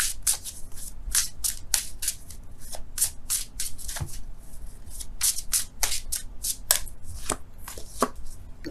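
Tarot cards are shuffled and drawn by hand, a quick run of crisp riffling and slapping flicks repeating close up with barely a pause, loud and dry with no talking over it.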